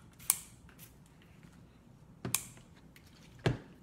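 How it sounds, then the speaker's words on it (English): Scissors trim pom-poms on a craft door tag with three sharp, isolated snips spread across a few seconds, close and crisp against a quiet room. "Let's trim up our little pom-pommy thingies."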